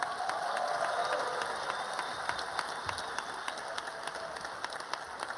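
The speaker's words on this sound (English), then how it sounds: "big round of applause" Audience at a medical school white coat ceremony claps for a group of graduating students. The applause is moderate and steady, with crisp individual claps running across a hall-like wash and fading slightly toward the end.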